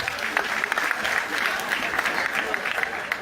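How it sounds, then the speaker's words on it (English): A festival crowd in Salone claps steadily in dense, sustained applause that carries on unbroken for a few seconds, with some voices mixed in beneath it. "Another clap for one more time."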